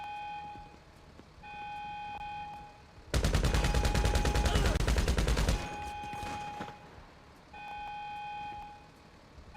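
Minigun fire in Grand Theft Auto V: a dense, continuous burst of rapid shots, loud and close, lasting about two and a half seconds between quieter game sounds with steady electronic tones.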